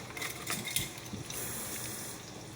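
Water pours into homemade pizza dough, a soft steady trickle and gush following a few brief clatters, faint and close with no talk.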